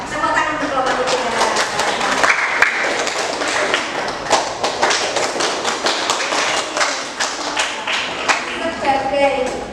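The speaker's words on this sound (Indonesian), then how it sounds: "Tepuk tangan untuk kelompok 3." Classroom students clapping for a winning group, a burst of uneven clapping with sharp taps and some thuds, mixed with voices talking over it.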